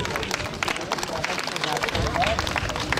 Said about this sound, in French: Ok, vous pouvez les applaudir